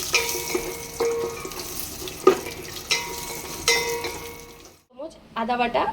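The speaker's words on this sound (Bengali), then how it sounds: "গোটা কাজুগুলো আমি ভেজে নেবো" Whole cashews fry in a pan of hot oil while cooking basmati pulao: a steady crackling sizzle broken by scraping stirs and a sharp clink, then a short break and a brief voice near the end.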